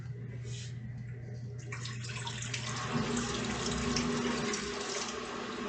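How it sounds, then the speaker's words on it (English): Tap water pours steadily into a slow cooker, a continuous hiss and splash that thickens partway through, its tone rising as the pot fills. "Put some water in the slow cooker."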